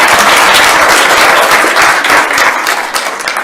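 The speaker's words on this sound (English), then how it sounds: "Yeah, you can clap." A city plan commission meeting audience in Lake Mills bursts into loud, close applause. The clapping stays thick and steady throughout, easing slightly near the end.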